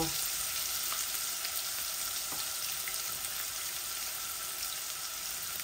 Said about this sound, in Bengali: এখন আমি কিমার মধ্যে আদা রসুন আর পেঁয়াজ দিয়ে দিচ্ছি